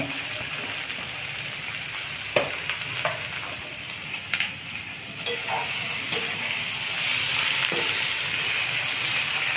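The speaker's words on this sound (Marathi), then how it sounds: "त्यामुळं मेथी ही परतून घेणे।" Fenugreek leaves sautéing in oil in a pan give a steady, close sizzle, with a few sharper pops and stirring clicks. The frying grows slightly louder and denser toward the end.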